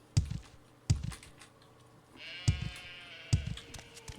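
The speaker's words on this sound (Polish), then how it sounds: "jakaś owca się rozdarła" A sheep in the video game Morrowind bleats loudly and drawn out in the middle, while sharp keyboard or mouse clicks tap out a regular beat around it.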